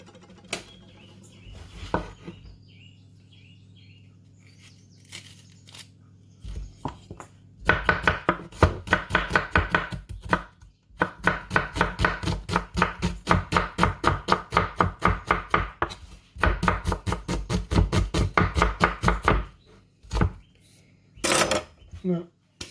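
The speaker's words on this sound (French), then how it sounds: "On va émincer un petit oignon." A knife slices through half an onion on a cutting board in fast, even runs of close, crisp taps, pausing between bursts, with someone speaking briefly at the start.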